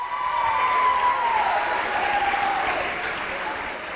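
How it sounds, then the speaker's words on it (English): Sustained audience applause at a university athletics awards event, a dense, even clapping crowd holding steady for several seconds, with a faint tone running underneath. "How about one more round of applause for Diamonds into Rough?"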